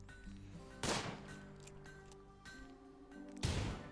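Gunfire from the colony-building video game Rimworld: two sharp, loud bursts about three seconds apart, each a brief crack of shots, over a steady low game background.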